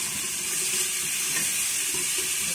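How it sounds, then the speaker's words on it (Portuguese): Garlic and salt browning in a hot pan at the start of a quick pot roast, giving a steady, even sizzle with a constant hiss and no talking. "E vou dar uma leve dourada aqui nesse alho e sal."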